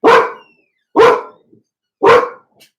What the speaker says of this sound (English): Oh, and there's my puppies.